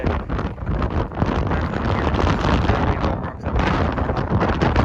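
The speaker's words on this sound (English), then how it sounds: "Quite windy up here" Strong, continuous wind buffeting the microphone on a mountain ridge in the Western Arthurs, a loud roaring rush that swells and dips slightly throughout with no voices.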